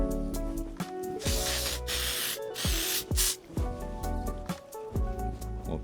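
Short bursts of hairspray are spritzed onto hair as a finishing step, soft airy hisses repeating several times over a steady background of music.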